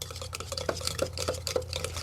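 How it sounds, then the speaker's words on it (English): Seasoned butter being mashed and stirred with a potato masher in a bowl, giving a steady run of soft, close knocks and squishy scrapes at an even rhythm, with no talking. "I like to mash it a little bit with that potato masher and kind of stir it up"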